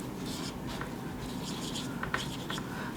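Steady scratchy strokes of writing on paper or a board during a physics lesson on linear momentum, with short rubbing bursts and a few sharper taps, close and continuous with no talking.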